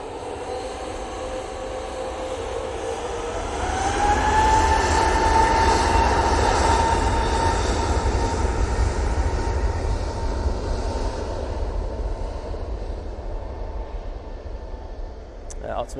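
A Jet2 airliner taking off from Manchester Airport, bound for Malaga, gives a sustained engine roar with a rising whine that swells and then slowly fades over about sixteen seconds.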